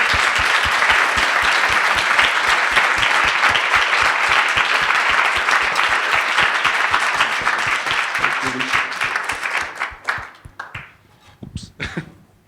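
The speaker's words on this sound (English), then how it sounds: "please give our panelists a big round of applause" An audience applauds panelists at a conference event, dense sustained clapping that thins out into scattered claps and fades near the end.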